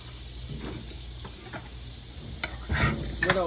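Butter sizzles in a skillet over a first layer of onions for fried onion burgers, a soft steady frying hiss with faint clicks of stirring that grows busier and louder toward the end.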